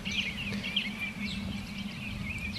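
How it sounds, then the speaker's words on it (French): Many small birds chirp and twitter continuously, overlapping high calls over a low steady hum of background noise. "On est envahi par les oiseaux."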